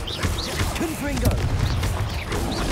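Confringo explosive spell cast in Hogwarts Legacy, a burst of blasting bangs and crackling impacts layered over game music and swooping effects, with a voice talking through part of it.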